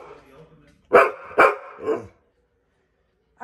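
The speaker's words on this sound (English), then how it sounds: "Why are you barking?" A pit bull barks three times in quick succession, close and loud, followed by silence and a short yelp at the end.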